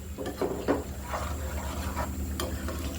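Katla fish roe frying with spices in a pan, a steady low sizzle with scraping stirs of a spatula at irregular intervals, close and continuous with no talking.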